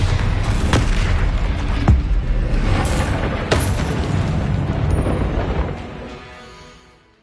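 A Bombarda blasting spell goes off in Hogwarts Legacy, a loud deep boom followed by rumbling debris and a few sharp cracks, with the roar slowly fading out at the end.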